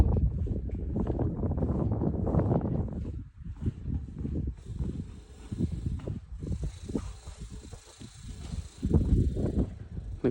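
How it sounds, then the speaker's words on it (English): Strong wind at the Flight 93 Memorial, heavy low buffeting and gusts against the microphone with a thin, faint high whine from the glass building in the wind, no voices. "The glass is making a strange noise with the wind. Now it's windy."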